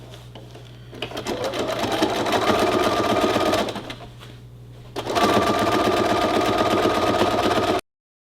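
A sewing machine stitches a jean purse in two loud, steady bursts of close mechanical whirring, separated by a short pause, then stops abruptly.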